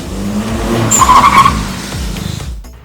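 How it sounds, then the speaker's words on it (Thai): Tires of a Honda City Hatchback with upgraded brakes squeal and skid during a sudden hard stop from speed, a loud, close screech of about two seconds over engine and road rumble, ending abruptly. "ที่ความเร็วสักร้อยกิโลเมตรต่อชั่วโมงหรือสัก 60กิโลเมตรต่อชั่วโมงแล้ว เบรกแบบกระทันหัน"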